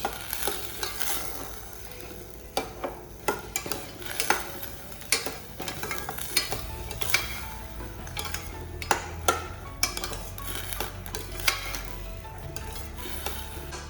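Food sizzles in a pan while a utensil stirs and scrapes, giving repeated sharp clicks and taps over a steady frying hiss.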